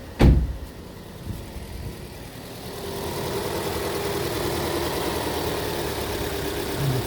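A Vauxhall Astra J petrol engine idles roughly with a misfire, a low uneven rumble that swells after a sharp knock at the start and keeps running steadily at moderate loudness.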